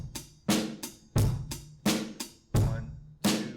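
A drum kit played in a steady 4/4 beat, loud close hits alternating between deep kick-like thumps and sharper crashing strikes with cymbal wash, eight or so evenly spaced strokes alone without talking.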